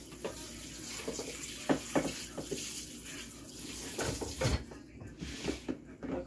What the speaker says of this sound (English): Next up, gonna wash the chicken.